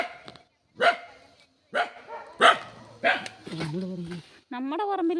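A dog in a family compound near an ancestral house gives several sharp, separate barks, then a longer whining yelp, close and fairly loud, while a person scolds it between barks.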